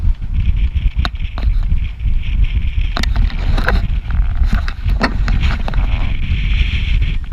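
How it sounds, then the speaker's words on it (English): A sailboat with a reefed main and partly furled genoa beats to windward against short steep seas, with steady rushing water and wind over the microphone, broken by irregular slaps and knocks from the hull and rigging. "Wind over tide, so short steep seas."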